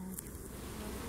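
Honeybees from a package being hived buzz in a continuous low drone, close and steady, with no talk over it.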